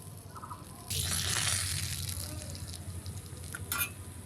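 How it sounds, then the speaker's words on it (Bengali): A hilsa fish tail fries until crisp in hot oil in a pan, starting as a sudden broad sizzle that stays steady and then fades a little, with a few clinks from the pan and no talking. "একদম কড়া করে ইলিশের লাজা ভাজলাম"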